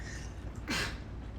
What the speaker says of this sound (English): Big sneezes.